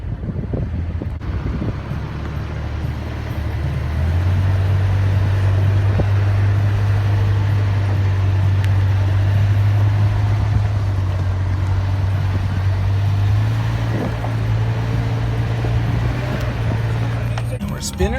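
A Dodge Ram V10 truck crawls up an off-road ridge in four-wheel drive low range, its engine a steady, loud low drone that swells after a few seconds and holds, with wind buffeting the microphone throughout.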